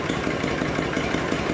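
A Honda VTX motorcycle fitted with chrome-bezel fog lights idles steadily just after startup. The engine note is loud, close and continuous, with an even, lumpy throb and no voices.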